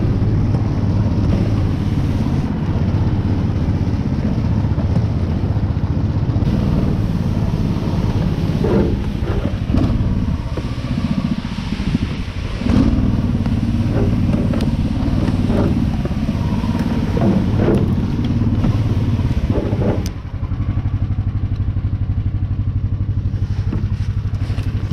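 An Uragan all-terrain vehicle drives on through a spring off-road trip, its engine a steady, loud low-pitched drone that runs the whole time, mixed with wind buffeting and occasional knocks and rattles.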